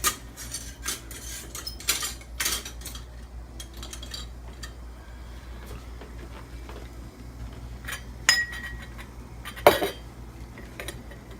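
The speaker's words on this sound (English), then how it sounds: "just pushing it down in there and filling the jar" Tomatoes are pushed through a funnel into a glass jar, giving scattered sharp clinks and knocks of glass and metal against a low, steady background hum, with a few louder taps near the end.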